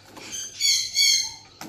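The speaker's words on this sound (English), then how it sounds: "There's a currawong in the back there." A currawong calling outdoors in the morning, a single high, drawn-out squealing call in two swells, loud and alone over a low steady hum, ending in a brief scratchy sound.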